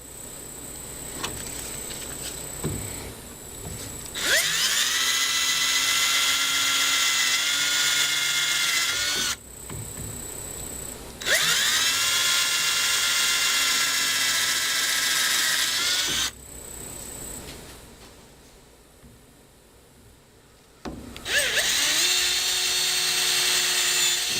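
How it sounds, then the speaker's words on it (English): A power drill whirs into wood in three long bursts, each spinning up loudly and running steadily before stopping, with quiet pauses between. "You don't need to drill all the way through"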